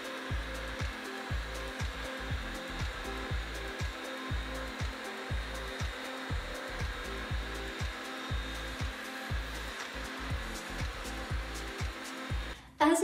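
Bissell Symphony and PowerFresh steam mops run across a floor, giving a steady motor hum with a regular rhythmic pulsing as they are pushed back and forth, close and continuous with no talking.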